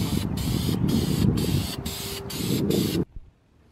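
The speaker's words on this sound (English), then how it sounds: "before we throw the headers back on, we're going to hit it with the ceramic coat" Ceramic coating sprayed from a can onto car exhaust headers for an LS-swapped Miata: a loud, close, steady hiss broken by several brief pauses, ending abruptly after about three seconds.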